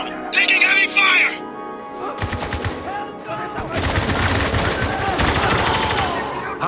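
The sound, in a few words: gunfire in video game Spec Ops The Line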